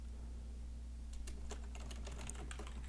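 Someone types on a computer keyboard while coding in Visual Basic 2005, a quick cluster of close key clicks starting after a second of quiet over a steady low electrical hum.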